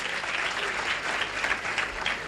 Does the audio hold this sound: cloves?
no